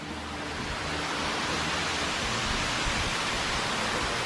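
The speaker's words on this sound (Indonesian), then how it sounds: "Udah ada air terjun." A dense, steady roar of rushing water from the Tumpak Sewu waterfall, broadband and unbroken, with no voices over it.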